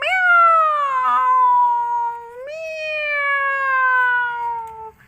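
A human voice imitates a cat for a children's puppet show, giving two long drawn-out meows, loud and close, the second rising briefly before sliding down.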